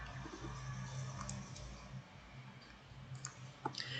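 A few faint computer mouse clicks, sparse and quiet, over a low background hum.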